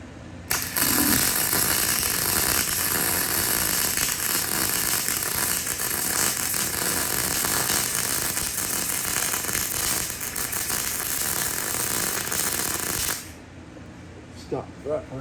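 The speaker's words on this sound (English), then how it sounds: "let's see how we do on this overhead weld" Continuous crackling and hissing of an overhead weld on a metal frame, steady and loud for about twelve seconds before cutting off, leaving quieter background sounds at the end.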